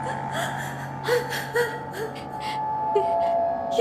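A woman cries in short, gasping sobs and whimpers, a few breathy catches spaced over a faint steady hum, close and moderately quiet.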